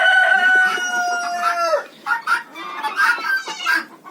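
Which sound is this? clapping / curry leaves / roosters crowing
roosters crowing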